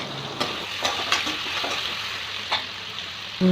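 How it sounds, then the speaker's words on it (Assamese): Marinated meat pieces fry in vegetable oil in a kadai, giving a steady sizzle with occasional sharp stirring scrapes and a clunk near the end, no one speaking. "তাত মাংস পিচেছখিনি, মেৰিনেট কৰা মাংস পিচেছখিনি ভালদৰে ভাজিব"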